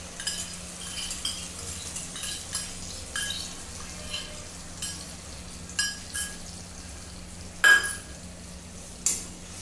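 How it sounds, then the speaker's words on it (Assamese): Spice paste for a village-style Assamese fish curry frying in a pan with browned onions, a soft steady sizzle broken by repeated utensil scrapes and a few clinks, close and without speech. "মছলাটো এতিয়া 3-4 মিনিট ভাজিব লাগিব ভালকে।"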